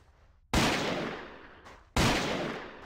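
Two loud, booming gunshots go off in a shooting video game, about a second and a half apart, each with a sharp attack and a long decaying rumble, with no talk over them.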